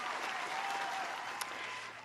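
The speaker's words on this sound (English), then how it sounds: "Round of applause for that." An audience claps in a short round of applause, steady and moderately distant, tapering slightly near the end.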